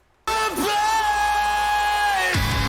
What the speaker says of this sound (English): I think there's a little like a scream kind of vocal mixed in there or layered.